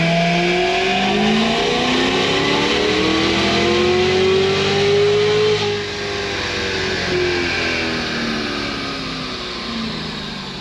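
A Cadillac CTS-V engine revs hard on a dyno and climbs steadily in pitch under load, loud and sustained, then eases off slightly toward the end.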